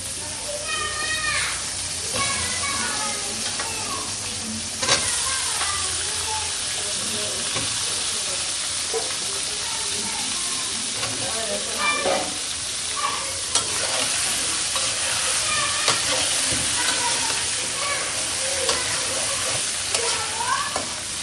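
Green beans hit a hot pan in a Bangladeshi home kitchen and fry with a constant loud sizzle and hiss, stirred with scraping clinks, while voices and children chatter in the background.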